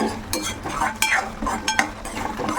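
Spice masala with gram flour being stirred in a pan, with repeated scraping strokes and clinks of a spoon against the metal and a faint sizzle underneath, no voices.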